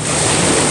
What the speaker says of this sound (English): Oh, big waves.